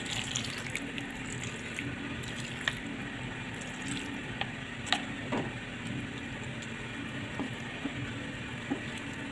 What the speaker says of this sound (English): the rice is very hard, so I'm going to add water.